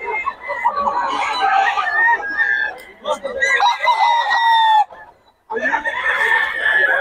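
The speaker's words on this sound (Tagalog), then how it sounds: "Marami ka makakita rito ng manok." Chickens and a rooster cluck and crow loudly and close by, one long crow rising over steady clucking that stops briefly before resuming.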